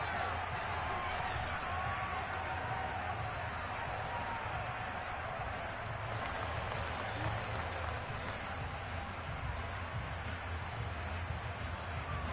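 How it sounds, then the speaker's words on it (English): A large football stadium crowd shouts and cheers in a dense, continuous roar that holds steady and loud for the whole stretch. "Plenty of shouts from this crowd as they watch the replay."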